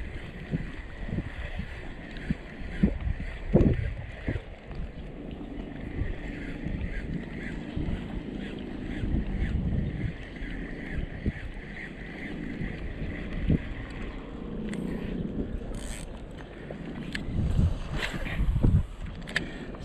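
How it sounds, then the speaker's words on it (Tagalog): Strong wind gusts over the water while fishing for grouper from a boat in high water, a steady rumbling buffet of wind noise on the microphone with low thumps and occasional faint voices. "Uy, grabe ang hangin."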